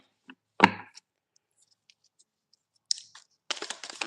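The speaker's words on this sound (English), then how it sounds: "All right, I'll do one more shuffle." A tarot deck being shuffled: a few scattered soft taps and card flicks, then a short, dense burst of riffling at the end, close and otherwise quiet.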